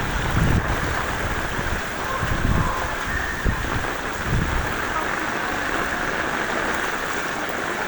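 Heavy rain pouring down during a flood with rising water entering homes, a dense, steady loud roar of rainfall with gusting wind and no talk.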